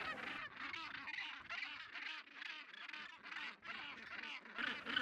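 A Northern Gannet colony calls from just a few feet away, many birds giving harsh, overlapping guttural cackles in rapid, continuous bursts, close and dense.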